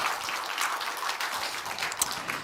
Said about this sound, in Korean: 우리 능력이 하나님께 영광의 박수 올립시다.